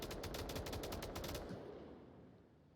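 Rapid automatic gunfire in an Onward VR match, a quick string of sharp shots that stops abruptly and leaves a fading echo.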